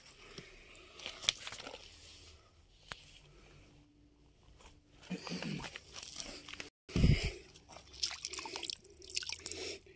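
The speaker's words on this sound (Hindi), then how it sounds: "यहाँ से ये पानी निकल रहा है।" Water from a spring inside Mount Uhud near Medina drips and trickles in close, irregular splashes, mixed with crunchy handling noises and faint background voices.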